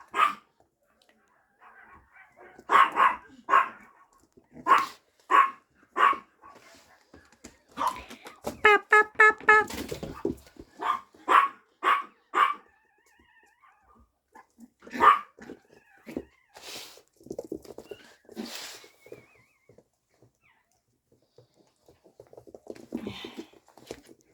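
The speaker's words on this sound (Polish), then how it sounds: "Za uszy, za ogon to się psy gryzą" Six-week-old dachshund puppies play-fighting in a yard, giving sharp, high, yappy barks in quick bursts with short pauses between, including a rapid flurry midway, close and loud over an otherwise quiet background.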